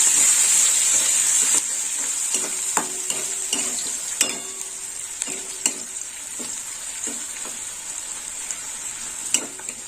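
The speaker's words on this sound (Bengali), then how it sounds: "পেঁয়াজটা কি লাল লাল করে ভাজা হবে" Chopped onions fry in hot oil in a pan with a steady, loud sizzle, broken by repeated scraping and clinking of a spatula stirring them.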